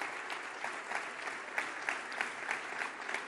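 An audience applauds after a French presidential candidate's election-night speech: dense, sustained clapping from a large crowd with steady rhythmic swells, no voices heard over it.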